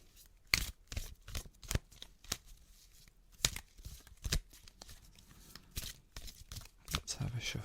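A deck of cards being shuffled, a series of quick, close riffles and snaps in short bursts spread across the stretch, fairly quiet with brief gaps between.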